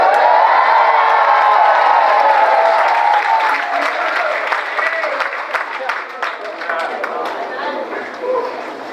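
Crowd at a political rally led by Jesse Jackson in a church cheers, screams and applauds loudly throughout, a dense sustained roar that eases slightly toward the end with scattered clapping and shouts.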